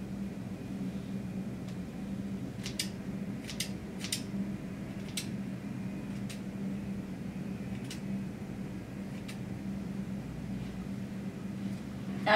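Scissors trimming hair extensions, giving a handful of quiet, crisp snips scattered through the middle of the clip over a steady low room hum.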